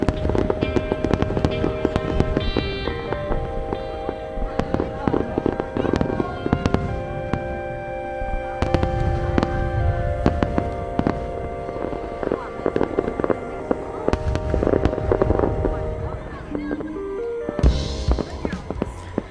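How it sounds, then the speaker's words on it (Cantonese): Fireworks bursting over the Chiang Mai lantern festival, heard from a distance at a campsite: a dense, continuous crackle and pop lasting throughout, mixed with voices and other background sounds. "亦都開始放煙花啦"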